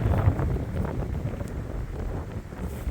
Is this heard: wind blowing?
yes